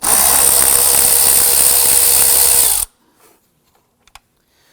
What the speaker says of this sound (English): Right here is a 7mm screw. Go ahead and loosen and remove that.